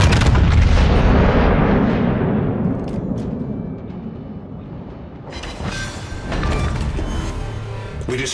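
Naval artillery fire support in World of Warships: a heavy booming blast that rolls and fades over a few seconds, then a second wave of rumbling impacts and crackling explosions, loud and close.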